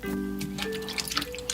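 Water trickles and drips while cut squid pieces are rinsed by hand, a brief close splashing and dribbling sound under a faint background voice.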